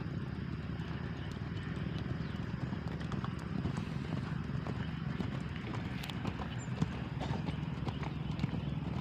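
Racehorses trotting during training for a traditional Gayo horse race, with continuous hoof clip-clop amid outdoor background noise.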